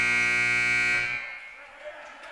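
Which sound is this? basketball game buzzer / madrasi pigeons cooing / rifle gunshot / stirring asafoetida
basketball game buzzer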